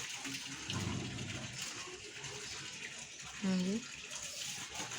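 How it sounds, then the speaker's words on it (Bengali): Water being changed and a bowl rinsed outdoors: running and splashing water from a tap, with a short louder gush near the end, under faint background voices. "নোংরা জলটা পাল্টে আনলাম, বাটিটা পরিষ্কার করে"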